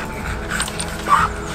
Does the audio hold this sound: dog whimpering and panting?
yes